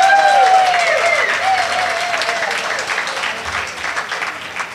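Continuous applause fills an alumni and community awards ceremony, a crowd clapping steadily while a few high whistles or squeals ring out early, then the clapping gradually softens toward the end.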